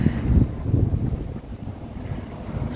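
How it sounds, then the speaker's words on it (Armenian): Warm wind buffets the microphone outdoors near a shopping centre, a low, rumbling, gusty roar that swells and dips continuously and close, with no voices. "համ քամի է, համ էլ, բայց տաք քամի է"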